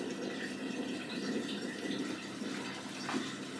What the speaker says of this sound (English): I think we're just about to go for the second rinse or final rinse